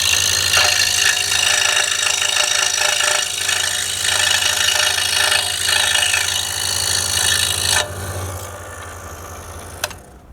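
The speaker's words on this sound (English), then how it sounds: "now what we're going to do is cut this off. So I'm going to cut it off at where the cone ends there" A saw cuts through a wooden cone on a model float plane, a steady rasping run of strokes for about eight seconds that then drops off, ending with a sharp tap.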